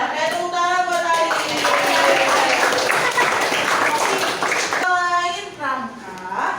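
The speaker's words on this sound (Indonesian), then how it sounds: "Oke, tepuk tangan buat Ali." A classroom of children claps for a classmate during a lesson, a few seconds of dense applause mixed with voices, with a teacher talking before and after.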